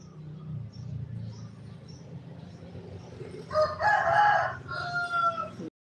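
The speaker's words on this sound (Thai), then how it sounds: "ไก่" A rooster crows once, fairly close and loud, at a rural home in Thailand, rising out of a low, steady background rumble about midway through.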